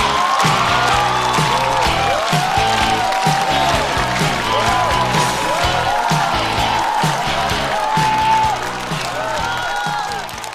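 A stand-up comedy audience applauds and cheers as a comedian from Hainan is welcomed on stage, steady loud clapping and whoops under music, easing slightly near the end.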